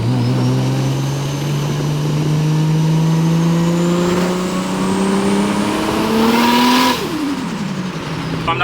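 A Toyota JZX90 Mark II with a factory 2.5-liter non-VVTi 1JZ engine drives at a steady, rising engine drone, pulling through a gear then easing off as revs drop near the end, close and continuous with no talk.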